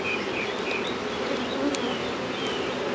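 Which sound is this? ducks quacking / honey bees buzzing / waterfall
honey bees buzzing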